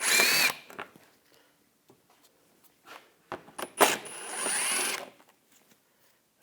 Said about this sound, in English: Using a 7mm socket, take these screws out.